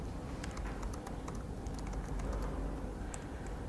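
Quiet, close typing on a computer keyboard, a quick irregular patter of light key clicks over a low steady background hum, no voices.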